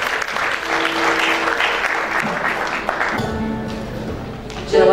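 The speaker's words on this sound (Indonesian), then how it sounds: "Kita sambut dengan tepuk tangan yang meriah bagi Tuhan" A congregation at GBI Glow BSD Junction church claps warmly to welcome a worship singer during an evening service. The steady applause fills the hall for several seconds before fading.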